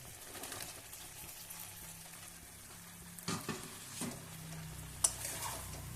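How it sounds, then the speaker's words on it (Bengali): Cauliflower dropped into a hot pan with spices and frying, a steady low sizzle with stirring and a few clattering knocks of utensil against pan, no talking. "এই ফুলকপিটা দিয়ে দিচ্ছি"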